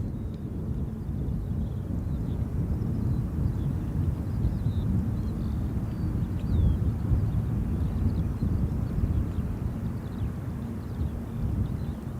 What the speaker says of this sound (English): the EasyJet there coming in